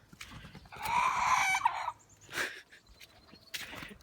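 Chickens and a rooster in a snowy, muddy chicken run: a long, loud, close crowing or gobbling call, then shorter squawks and clucks at lower level, with no talking.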